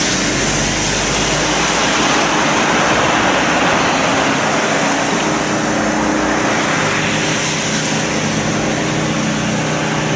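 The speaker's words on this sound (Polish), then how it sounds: "jest wielki potok na drodze" Floodwater torrent rushing down a road during heavy June rain in Kamienie, Czernica municipality, a loud continuous roar of flowing water with a faint engine hum beneath, steady throughout.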